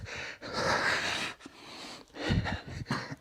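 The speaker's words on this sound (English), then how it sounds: "my t-shirt with the moisture making a vacuum sound on the mat" Soft squeaky suction noises and rubbing come in uneven bursts, close by, as a damp t-shirt sticks to an exercise mat during a kettlebell workout, mixed with heavy breathing and exertion sounds.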